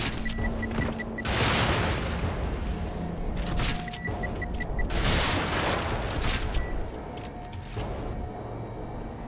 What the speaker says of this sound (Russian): Взрыв.